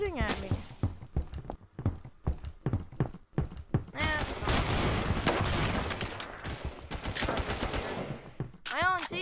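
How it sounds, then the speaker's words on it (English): Rapid bursts of automatic gunfire and shots in the first-person shooter game Phantom Forces, loud and dense through the middle, with sharp isolated shots before and after, alongside voice chatter. "Who's shooting at me?"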